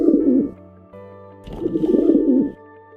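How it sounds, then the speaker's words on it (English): A pigeon cooing close by, two soft, throaty rolling coos separated by a short pause, heard alone. "Pigeon."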